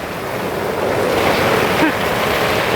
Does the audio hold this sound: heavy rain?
yes